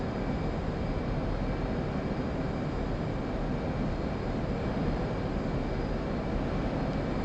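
A jet engine on afterburner in a flight simulator game, heard as a steady, even roar with a faint high whine, constant and unbroken for the whole stretch with no voices.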